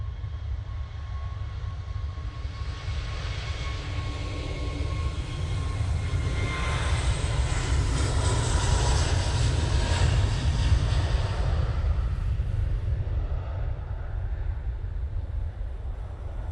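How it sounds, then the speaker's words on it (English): A Ryanair airliner flying over Manchester Airport, a broad jet roar that swells to its loudest midway as it passes overhead, then eases slightly while still rumbling on. "Ryanair coming over."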